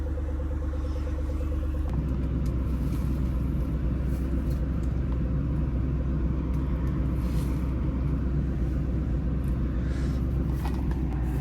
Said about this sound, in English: cranked the truck up for my sister